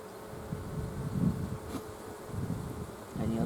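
Honey bees buzz steadily at close range as a frame of brood is lifted from a hive, with a low, continuous hum that swells briefly in places and no talking.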